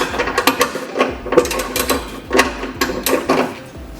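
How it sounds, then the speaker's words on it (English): A ratcheting tool tightens 13mm bolts on the ECM bracket of an Audi S5, giving quick, close clicking bursts in a steady rhythm of about four runs, with no talk. "Just tighten these 13mm bolts."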